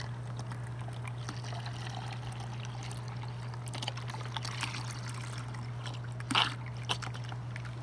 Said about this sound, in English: and then just pour the rest of it in